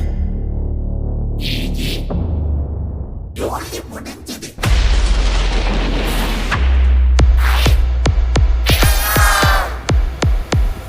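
Several sharp, loud firecracker bangs crack in quick succession near the end, preceded by crackling bursts, a heavy thump and shouting voices.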